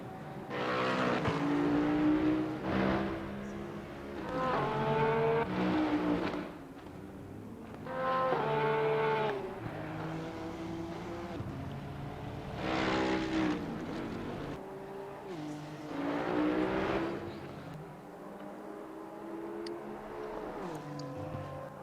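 A race car laps Spa in Assetto Corsa Competizione during a league race. Its engine is loud and close, climbing through gears in repeated rising notes and easing off between bursts, with no talk over it.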